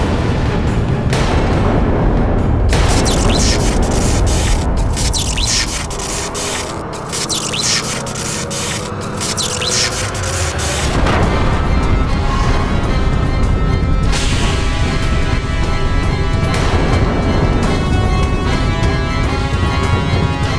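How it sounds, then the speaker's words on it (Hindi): Loud, continuous crashing and booming impacts of heavy mace blows clashing, thick with roaring rumble and metallic clangs, no speech. "ये तो दशानंद की गदा की ध्वनि थी स्वामी।"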